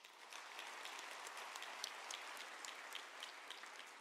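Family members at a university autumn graduation ceremony applaud, a soft, distant, steady wash of many hands clapping that sounds almost like rain and holds evenly throughout.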